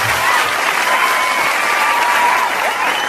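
Steady, loud audience applause fills a televised Indian singing talent show, a dense continuous wash of clapping with no gaps, sustained from start to finish.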